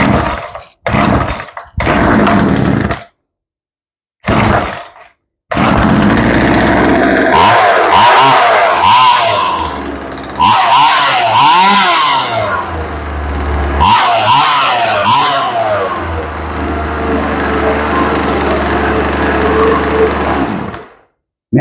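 A chainsaw, freshly restored after sitting unused, its carburetor cleaned ultrasonically, runs on full choke: a close, loud, steady buzzing drone with wavering revs, after a few short sputtering bursts at the start.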